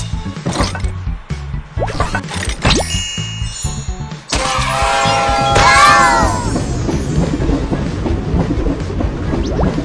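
Clanking mechanical knocks give way to a rolling, rattling train rumble with a squealing metallic screech, loud and continuous, with game-like sound effects, from the children's game Little Panda's Truck Team.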